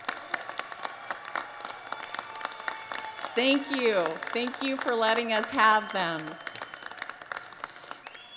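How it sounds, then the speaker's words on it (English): Crowd of high school graduates applauding their parents at a 2024 graduation ceremony, steady clapping throughout with a voice speaking over it in the middle. "applaud them"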